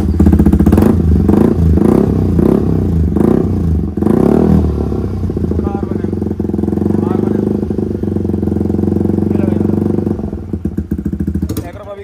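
A Yamaha MT-15 motorcycle engine fires up with sputtering pulses, then settles into a loud, throbbing idle with occasional revs, voices talking over it.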